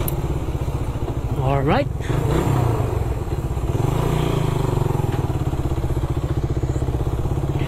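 Suzuki Raider 150 motorcycle engine running steadily nearby, a continuous low throbbing idle with a slight rise in the middle, while someone speaks briefly over it.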